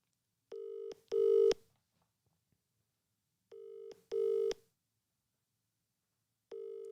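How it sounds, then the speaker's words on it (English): Telephone call tones: short dial beeps followed by repeating ringback or busy-style tone bursts, evenly spaced with silent gaps, clean and fairly quiet with no voices. "Let's try an old-fashioned phone call."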